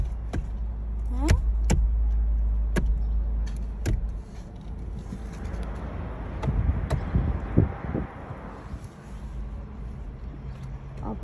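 A car rumbles at low volume as it is driven, with scattered clicks and thumps from inside the cabin and a rise of wind or road noise in the middle.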